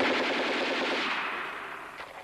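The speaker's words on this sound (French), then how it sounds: "Il tue Mussolini et Claretta de plusieurs rafales, tiré d'un pistolet mitrailleur MAS-38 de fabrication française." Bursts from a French-made MAS-38 submachine gun, fired in rapid succession as a dense, continuous rattle that is loud at first and slowly fades over about two seconds, with no voices.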